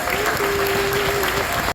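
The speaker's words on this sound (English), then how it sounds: "So a round of applause for all of you wet rats." Concert crowd applauding at an outdoor show on a wet night at Casa Loma, loud sustained clapping with a faint tonal note running underneath, cut off abruptly at the end.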